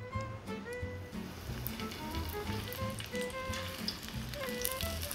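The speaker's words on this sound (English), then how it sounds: "You can shallow fry them in just about a half an inch of oil." Cauliflower shallow frying in olive oil in a hot pan, a soft, steady sizzle and crackle with scattered pops throughout, fairly quiet and with no talking.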